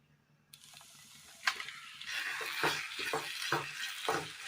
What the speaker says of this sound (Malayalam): വഴറ്റി വെച്ചിരിക്കുന്ന മസാലക്കൂട്ടിലേക്ക് വേവിച്ച നൂഡിൽസ് ഇട്ട് കൊടുക്കാം.